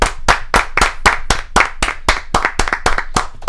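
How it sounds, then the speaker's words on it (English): A small group on a live talk show gives a round of applause for a man named Mike: close, sharp handclaps in a quick uneven rhythm, about a dozen distinct claps with no talking. "Round of applause for Mike."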